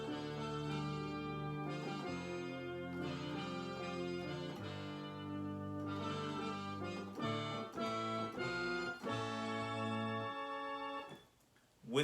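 A Casio CZ-1000 synthesizer accordion preset plays a sustained chord melody, reedy and steady, with a few quick note changes before fading out at the end.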